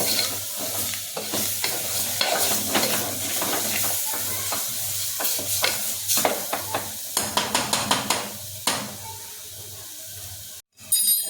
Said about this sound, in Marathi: त्याच्यानंतर हे वाटलेलं वाटण टाकतो, जेणेकरून वाटणालाही छानपैकी तेल सुटलं पाहिजे।